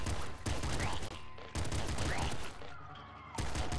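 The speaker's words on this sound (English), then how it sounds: "double machine gun's doing a pretty good job." Rapid bursts of double machine gun fire in the video game Nuclear Throne, dense loud chattering volleys broken by short gaps.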